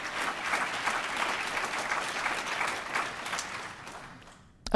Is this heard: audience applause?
yes